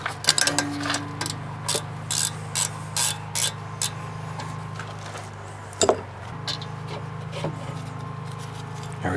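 A hand wrench ratchets a 14 mm brake caliper bolt loose on a 2020 Kia Soul, giving a close series of evenly spaced clicking bursts followed by a metallic clunk and quieter handling sounds.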